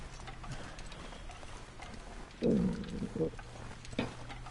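A wolf gives a brief, deep growl in The Long Dark video game, rising once over steady background ambience, with a voice speaking faintly around it.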